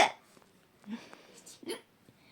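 Hiccups during a Minecraft play session, heard as a few brief, close vocal bursts spaced irregularly over a couple of seconds, mixed with light speech-like sounds.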